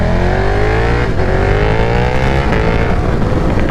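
A sport motorcycle, a 2022 KTM Super Duke R or Aprilia RSV4 with a BT Moto flash, accelerates hard in performance mode. The engine note climbs steadily and loudly, up close and without a break.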